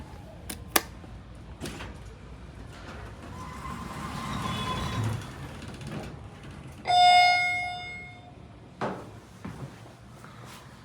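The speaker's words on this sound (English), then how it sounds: "this is the elevator at Menards in Lansing, Michigan" An Alliance hydraulic elevator runs inside a Menards store in Lansing, Michigan: scattered mechanical clunks and a low rumble, then a bright, ringing chime partway through, followed by a few more knocks.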